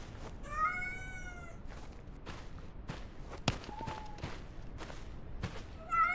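A cat meows several times, drawn-out cries standing out against a steady outdoor background on a water delivery route, with scattered footsteps and knocks.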